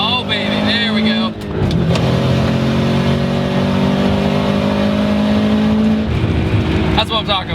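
A turbocharged Subaru Legacy GT 2.5 spec.B with all-wheel drive accelerates hard, its engine note rising steadily and loud from inside the cabin, with someone talking over it.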